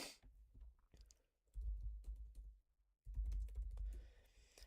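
Computer keyboard typing in bursts of quick clicks, with two dense stretches separated by short pauses, close and fairly loud.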